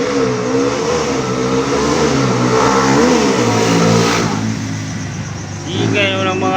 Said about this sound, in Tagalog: Ingay mo ng mga motor dito, tay, no?